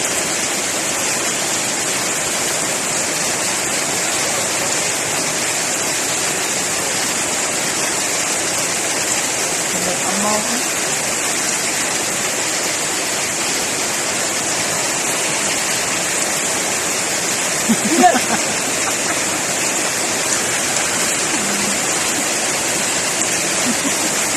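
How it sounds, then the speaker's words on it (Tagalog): Heavy rain shower pouring down steadily outdoors, a dense, constant hiss like a waterfall that stays loud throughout, with a faint voice briefly heard beneath it. "Magpayong dabog tong ulan."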